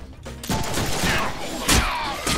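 Rapid gunfire in the Deadpool video game, a dense fusillade of loud, close shots with sharp bursts throughout.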